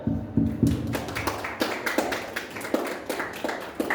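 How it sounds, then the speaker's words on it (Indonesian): Scattered audience clapping during an Islamic family-law outreach talk, loose and uneven rather than a full ovation, with distinct individual claps in an irregular rhythm. "Tepuk tangan."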